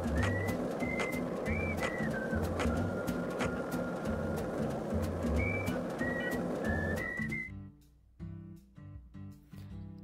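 A whistled melody in Deadly Premonition 2 drifts over a dense musical backdrop, the sliding whistled notes repeating for several seconds before the whistling stops and the backing thins out.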